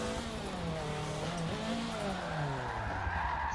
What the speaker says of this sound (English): I did find this car slides pretty well actually